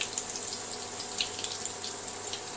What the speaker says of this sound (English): Let it get fried on one side.